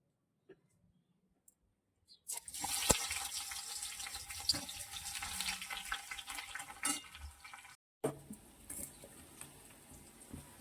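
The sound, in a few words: chopped onion frying in hot oil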